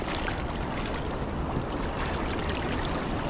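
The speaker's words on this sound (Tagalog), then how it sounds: "Lakas ng agos, nagtatangay kami." A strong river current in Taiwan rushes past with a dense, unbroken roar of churning water that holds at a loud, steady level for the whole stretch, with no voices.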